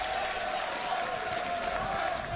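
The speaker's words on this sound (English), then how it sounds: "John, you hear this crowd. It is absolutely electrifying in here" Large esports arena crowd at The International 2022 Dota 2 main event, a steady wall of applause and cheering that holds loud throughout with a sustained tone over the roar.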